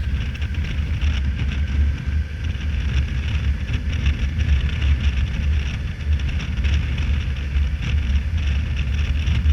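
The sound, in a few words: Kawasaki Versys 1000 motorcycle riding in 6th gear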